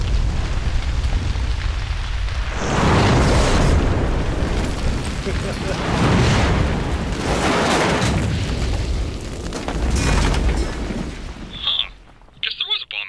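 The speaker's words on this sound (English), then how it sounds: "Guess there was a bomb in the Jeep." A bomb hidden in a jeep goes off in an animated Red vs Blue episode, giving several heavy booming blasts in a row, loud and close, with a burst of crackle near the end.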